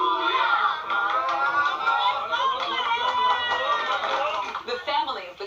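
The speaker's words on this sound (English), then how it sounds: "Others took up the victory chant of their Navy SEALs." Roadside crowd in Thailand chanting the Thai Navy SEALs victory chant in unison, many voices shouting together in a loud, sustained, rhythmic cry that fades slightly at the end.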